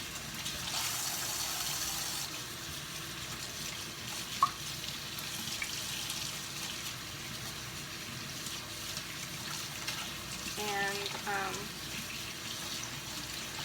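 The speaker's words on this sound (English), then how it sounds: "So basically I just rinse it." Cross stitch fabric being rinsed under a running tap, a steady wash of flowing water filling the whole stretch with faint sloshing and scrubbing, a voice briefly audible underneath.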